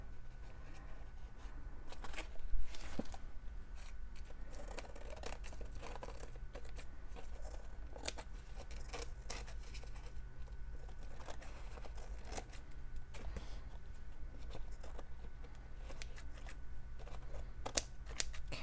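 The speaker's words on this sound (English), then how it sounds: "It is dry, and I'm going to trim it down." Quiet, intermittent snips of scissors trimming a dried fabric strip piece made from scraps, small sharp cuts scattered over a low steady background hum, with no talking.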